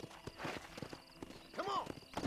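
A horse gallops in Red Dead Redemption, rhythmic hoofbeats close by with a short whinny partway through and faint voices behind.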